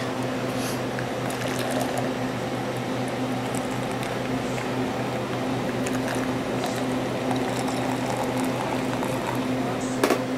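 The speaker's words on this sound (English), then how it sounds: "It's got nitro in it, so it pours quickly." Old Chub nitro beer, made in Lakewood, pours quickly into a glass with a close, continuous fizzing, bubbling rush over a low steady hum, ending in a faint clink.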